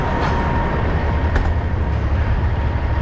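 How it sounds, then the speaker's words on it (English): A train rolls past a fertilizer loading site, a steady loud low rumble holding constant throughout with no breaks, some distance off and unaccompanied by voices. "Train rolling through."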